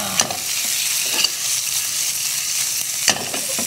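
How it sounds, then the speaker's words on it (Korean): Sausage stir-frying in a pan over high heat, a steady close sizzle with a few sharp scraping clicks from the spatula. "여기에 저는 소세지를 먼저 넣고 한번 볶을 거예요."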